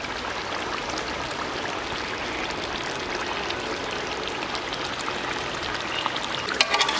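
Beef nalli bones with their meat tipped into a pot of masala for biryani, a steady broad wash of sizzle and splashing liquid filling the whole stretch, with a few sharper clinks near the end.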